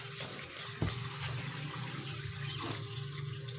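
Water runs steadily from a tap for a cat to drink, a continuous soft splashing stream with a couple of faint knocks.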